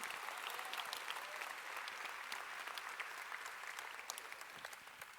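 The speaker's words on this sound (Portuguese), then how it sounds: "Você acha que Ele merece um aplauso?" A church congregation applauds during a Sunday morning service, a steady crowd of clapping hands heard somewhat distant and fairly quiet, sustained evenly and tapering slightly toward the end.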